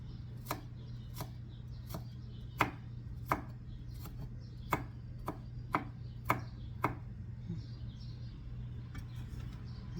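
A knife chops garlic on a board for a ham and potato salad: about a dozen crisp, close taps at an uneven rhythm over a steady low hum.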